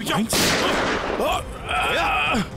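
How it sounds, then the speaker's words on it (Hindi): Gunfire crackles in a tense scene of a Hindi crime drama, with sharp loud bursts over a broad noise wash and strained voices shouting between shots. "माय गॉड, गोली चला रहा।"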